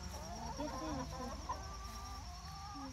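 Chickens in a backyard coop cluck and murmur steadily throughout, several birds close by with overlapping warbling calls over a constant low background hum.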